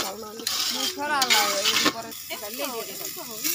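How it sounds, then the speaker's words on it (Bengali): Green chilies sizzle steadily as they hit hot oil in a frying pan during home cooking, a continuous crackling hiss with stirring clatter and voices talking over it. "এখন হলো কাঁচামরিচ দেওয়া হলো শব্দ"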